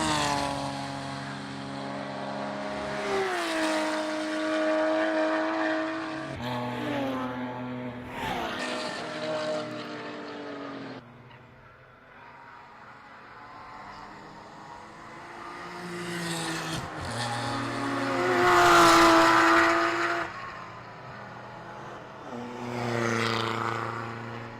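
A BMW touring race car roars past at a Grand Prix circuit, the engine rising and falling through gear changes in repeated passes, loud and close with a faint, distant voice beneath.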